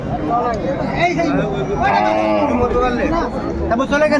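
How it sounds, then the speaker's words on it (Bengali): Cows and calves mooing loudly and repeatedly close by at a cattle market, with lowing calls overlapping a busy background of people chatting. "গাভী বাছুর আমরা দেখছিলাম এখানে"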